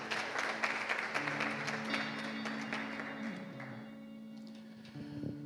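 A church congregation applauds in a dense patter of clapping that fades out over several seconds, with sustained tones and faint voices underneath.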